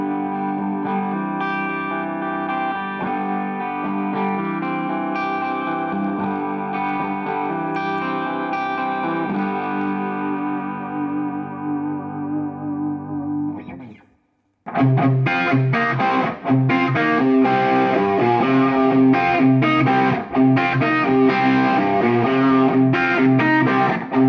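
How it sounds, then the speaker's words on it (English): A DV Mark tube guitar amplifier with a micro tube preamp, two channels, reverb, a 50-watt power amp and effects loop, played loud with distorted, effect-laden tones, a brief cut near the middle, then a denser passage. "it features a micro tube in the preamp section, delivering a warmer and fatter tone."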